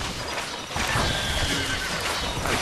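A horse in the video game Stronghold Crusader whinnies loudly against a dense, noisy backdrop of hoof clip-clops and battle bustle.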